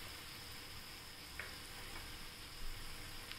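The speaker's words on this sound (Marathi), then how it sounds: "आता आपण छान परतून घेऊया एकदा" Sprouted green gram (moong) with coriander powder sautés in a pan with a soft, continuous sizzle and a couple of quiet stirring scrapes.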